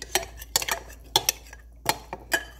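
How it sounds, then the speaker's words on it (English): A spoon clinks and scrapes against a pot while stirring water for Jamaican cornmeal porridge, with a series of sharp, uneven metallic taps close by and no talk. "Pour some more water in here and stir it."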